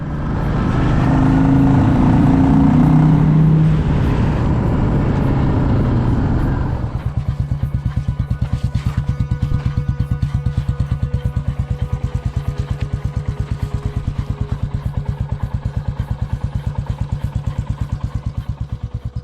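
A Royal Enfield Classic 350 single-cylinder motorcycle on trail tyres, a loud revving engine at first, then settling into a close, steady, thumping putter with clattering mechanical ticks as it rides on.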